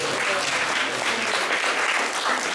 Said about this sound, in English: Let's give a round of applause for Adhikar Prabhu